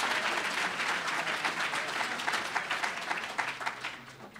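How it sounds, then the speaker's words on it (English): Audience at the 2014 Ignatz Awards ceremony claps together, a lively burst of many hands that starts dense and thins into more distinct individual claps as it fades. "Let's clap for everyone."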